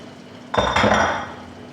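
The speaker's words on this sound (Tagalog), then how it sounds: "Ito po, naghugas po ako ng plato." Plates clink and clatter together as dishes are washed by hand, one short bright burst of ceramic knocks that rings briefly and fades in a quiet room.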